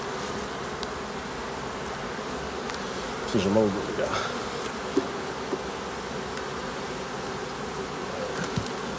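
Honeybees hum steadily and close around an opened hive during a spring inspection, a constant buzz with a few brief sharper sounds, while someone speaks briefly.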